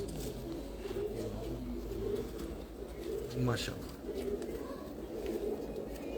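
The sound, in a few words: cross-bred Parwazi pigeon cooing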